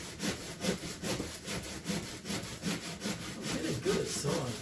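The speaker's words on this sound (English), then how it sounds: "I'm getting good at sawing." A Stanley hand saw cuts through a big tree limb in steady back-and-forth strokes, a rhythmic rasping repeated roughly every half second, close and alone with no voices.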